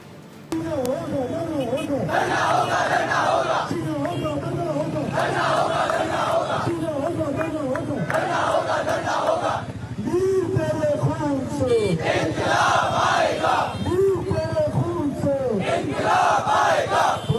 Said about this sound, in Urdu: مظاہرین کی قاتلوں کی گرفتاری اور حکومت کے خلاف نعرے بازی